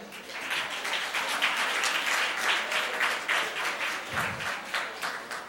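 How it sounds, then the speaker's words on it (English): An audience at a student presentation claps in steady, dense applause, moderately loud and sustained throughout, without talk over it. "Give her a round of applause."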